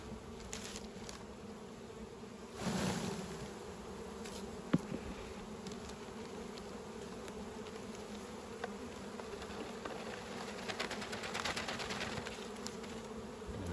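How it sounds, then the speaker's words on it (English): Honeybees at an open beehive during a sugar-shake varroa mite check in the Orara Valley: a faint, steady buzzing hum from many bees, with occasional louder passes of individual bees close by. "So we'll grab some bees."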